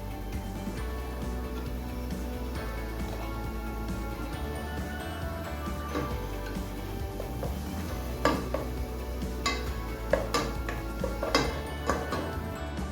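Spoon stirring cream into pumpkin halva in a pot flavoured with cardamom, a steady scrape and clink of metal against the pan with a few sharper knocks near the end, close and fairly loud.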